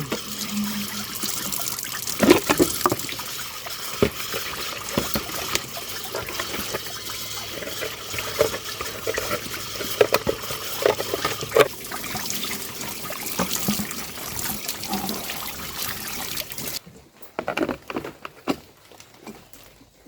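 Water running and splashing while washing and cleaning, a steady trickling, pattering flow with irregular clatters and splashes, close and fairly loud, cutting off abruptly near the end.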